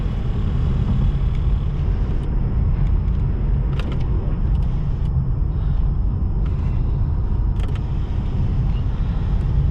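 A 2014 BMW 650i Gran Coupe with 100k miles is driven along. Its engine gives a loud, continuous low rumble and road drone that holds steady throughout, with faint clicks on top and no one talking.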